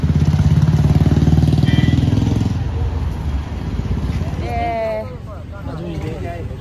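A vehicle engine rumbles loudly close by outdoors, then fades into the background as people talk over it.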